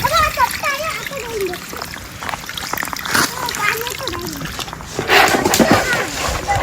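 Water splashes and sloshes in repeated bursts as crabs are washed by hand, with people talking over the handling throughout.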